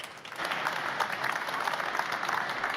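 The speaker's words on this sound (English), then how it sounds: "Have an applause." Conference audience at an industrial trade fair technical forum applauding a speaker's introduction, steady moderate clapping from a seated crowd in a hall, continuous and unbroken.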